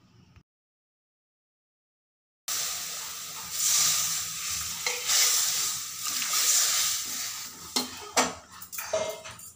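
Water poured into a pan of frying spiced mung dal produces a sudden, loud, steady hiss and sizzle after a short silence. Occasional scrapes and clinks of stirring break through the noise.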